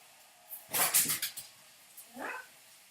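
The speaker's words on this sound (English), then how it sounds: "dog got hit by the door." A dog hit by a door lets out a burst of sharp, high yelps, then a shorter whimpering cry a moment later, fairly close and alone.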